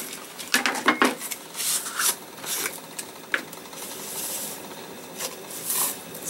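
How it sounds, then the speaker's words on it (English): Dry spices and a bay leaf dropped into a pot for simmered mulled apple cider, heard as a few light clinks and rattles against metal with soft rustling between them, close up and without talk. "I'm just going to throw it all in the pot. Throwing in a bay leaf."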